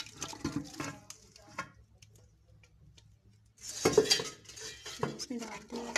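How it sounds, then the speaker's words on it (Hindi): Blended mustard greens saag is scraped into a pot with clinking spoon and pot sounds, a quiet lull, then vigorous stirring and clanking, close by, with no talk. "तो अब इसमें मैं ना ब्लेंडर हुआ साग डाल दूँगी।"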